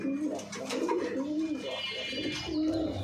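Male pigeon, a Kaldom or Girribaz type, cooing in a loft with a repeated throaty rolling call. Several coos run back to back at close range, with faint bird chatter behind.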